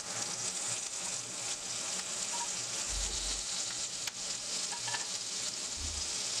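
Drumstick stalks and cut potatoes frying in hot oil with onion for a Bengali chorchori, a steady sizzle with soft stirring scrapes and a couple of low thumps.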